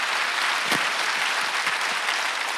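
A church congregation at a Korean Sunday worship service claps together, a dense, even wash of many hands filling the room at a steady level, with one sharper knock standing out early.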